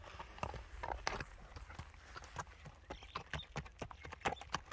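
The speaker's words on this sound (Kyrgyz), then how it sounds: "Атты мына басыгын көрүңүздөр." A horse's hooves clip-clop at a steady walking pace, close by, with irregular thuds and scrapes between the clear hoofbeats.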